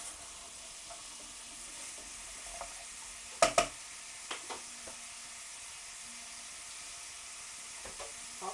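Vegetables for a cheesy bake sizzle quietly in a pan on the gas hob while being stirred, with a few sharp clicks of the spoon scraping the pan over a steady low fry.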